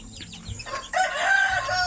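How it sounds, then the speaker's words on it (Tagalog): Chicks and chickens in a coop cluck and peep in a short burst, a bright chorus of bird calls rising loudly over a low background hum. "Yan o, mga sisiw natin."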